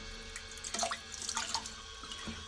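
Water gushes from a drain hose while a tank or overflow is emptied, faint and close, with gurgling splashes that come in a few uneven surges.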